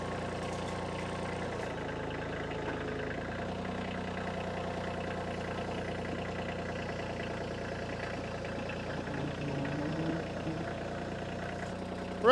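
A machine with lifting forks raising a load, its engine idling steadily at a low, even drone throughout, ending with a short louder rise.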